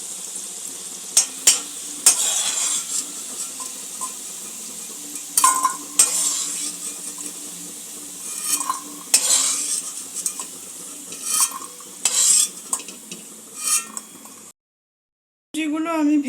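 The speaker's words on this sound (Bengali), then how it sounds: "সবজিগুলো আমি ভেজে নেব।" Vegetables fry in a pan under a broad sizzle while a utensil stirs and clinks against the metal in irregular scrapes and knocks, close and fairly loud, ending with a brief drop to silence.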